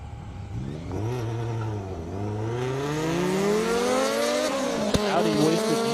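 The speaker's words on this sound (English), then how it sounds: "we got Patrick Parker in an S2000, 550 horsepower up against Matthew Stetz in an Audi S4" An S2000 tuned to 550 horsepower racing an Audi S4 of 400 horsepower on an airstrip, engines roaring loud and close as they rise in pitch through the gears, with a sharp tire chirp near the end.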